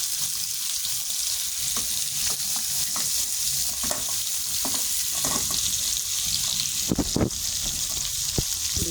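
Big fish pieces lightly frying in hot oil, a steady close sizzle throughout with scattered crackles and a few sharper pops and clinks near the end.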